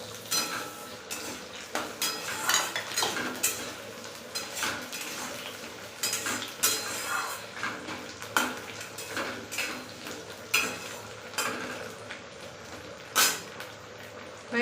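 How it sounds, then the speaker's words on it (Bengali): Potato pieces fry with onions in a pan, with a low sizzle under repeated scraping and clinking as a utensil stirs them, steady throughout and without talking. "এর মধ্যে আমি কয়েক টুকরো আলু দিয়ে ভেজে নেব একসাথে"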